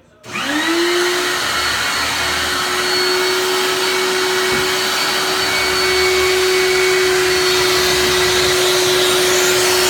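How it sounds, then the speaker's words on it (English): A vacuum cleaner used on static grass switches on and runs loudly and steadily, its motor whine rising briefly then holding a constant roaring drone. "So what we're going to do now is we're going to use a vacuum"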